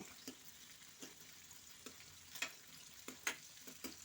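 Lentils frying in a pan for a tempering while making sambar give a soft, steady sizzle with occasional scraping stirs at close range and no talking.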